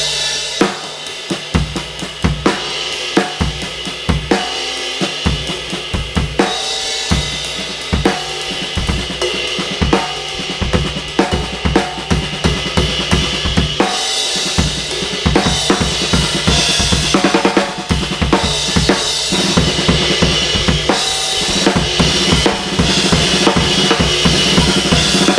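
Drum kit groove where the fourth backbeat lands a sixteenth note late, played with busy hi-hats, kick and snare in a steady loud pattern, shifting into improvised variations, with no speech.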